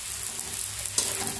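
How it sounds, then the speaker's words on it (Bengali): Bengali fish curry masala, with salt, turmeric and a fried fish head, fries in a pan with a brief, even sizzle. A sharper scrape of stirring cuts in partway through, and no one speaks. "এবারে লবণ হলুদ দিয়ে এটাকে ভালো মতো কষিয়ে নেবো, ভেজে নেব"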